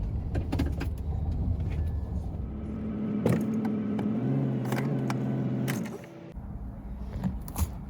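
A van rolls slowly into a parking spot at night, its engine a low steady rumble, with a few clunks and thumps along the way, before it goes quiet near the end.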